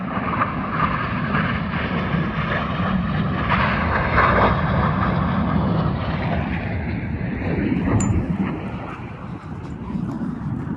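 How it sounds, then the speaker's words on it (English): Fighter jets fly over hills and fells in the Lake District, a broad continuous engine roar that fills the whole stretch and fades slightly toward the end, heard outdoors with some wind noise. "Oh, there's a fighter jet down there."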